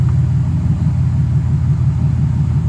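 Mercedes SL600 engine idling steadily during a transmission test with the ASR system active, giving a loud continuous low rumble with no revving.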